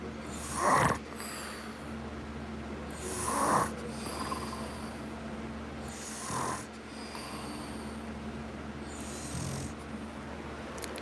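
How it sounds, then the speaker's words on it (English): A sleeping man snores softly in a quiet room, four slow, widely spaced snorting inhalations with steady faint background hum between them. "That was his cute little snore."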